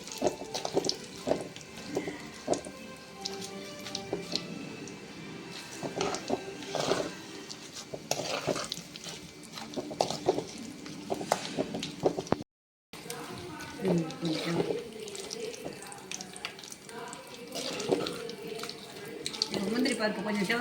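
Cashew nuts fry in a pan for sambar rice, a continuous close sizzling hiss with occasional crackles running beneath steady speech, with one brief silent gap.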